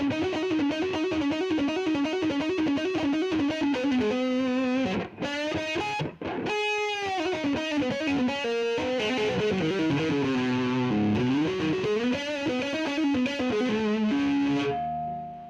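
An electric guitar played through an Andoer SE-50 Element overdrive pedal, with distorted sustained notes and chords, a few brief pauses, and bending pitches throughout.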